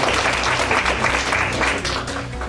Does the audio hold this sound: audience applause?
yes